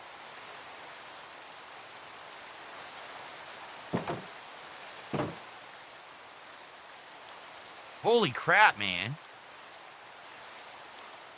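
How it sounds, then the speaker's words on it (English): Steady rain falling in the game Minecraft, a soft continuous hiss throughout, with a few short exclaimed voices over it. "It's raining again."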